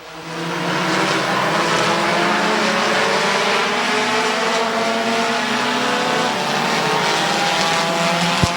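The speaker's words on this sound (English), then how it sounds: "Good racing up front in heat race number 2 for the Midwest Compact Touring Series." Compact touring race cars in a Midwest Compact Touring Series heat race at Midvale Speedway roar steadily in a continuous loud engine drone, with overlapping revving tones from several cars passing, and no talking.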